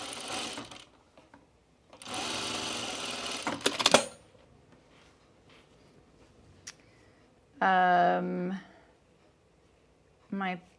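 Sewing machine running gathering stitches on a 1930s-style blouse, heard in several short bursts of rapid mechanical whirring and clatter separated by quiet pauses, close and fairly loud.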